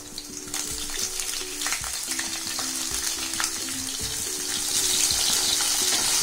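Onion hits hot oil with roasted spices for a vegetable pulao, giving a continuous close sizzle that swells slightly louder toward the end, while a steady low hum runs underneath.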